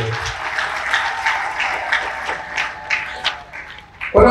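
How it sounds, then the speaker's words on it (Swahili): Audience at a water institute graduation ceremony applauding the graduates' parents, a steady wash of many hands clapping that swells and dips for about four seconds before a louder burst at the end. "tuwapigie makofi mengi sana sana sana sana wao"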